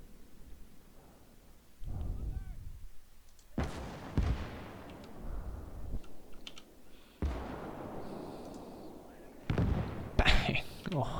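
Incoming artillery shells slam down in battle in the Call to Arms: Gates of Hell Conquest mode, USA against Germany. Several sharp, loud blasts land one after another with rumbling decay, over clicking and a voice talking.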